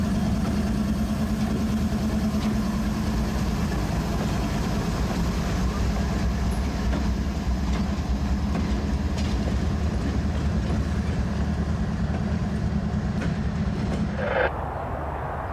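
A CSX freight train led by GE locomotives rolls past, a steady low diesel rumble and rattling wagons with faint wheel clicks, continuous and fairly close until a brief clank near the end.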